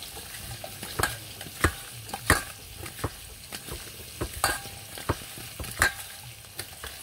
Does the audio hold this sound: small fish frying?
yes